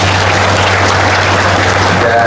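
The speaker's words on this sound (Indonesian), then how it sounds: "Tepuk tangan untuk kalian semua." An audience claps at a national awakening day gathering, a loud, continuous burst of applause with a steady low hum running underneath throughout.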